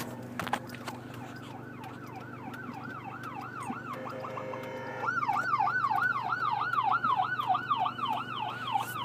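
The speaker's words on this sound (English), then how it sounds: "I hear sirens." Emergency vehicle sirens heard from inside a moving car, wailing and yelping in repeated rising-falling sweeps that grow louder and closer halfway through, over steady low engine and road hum.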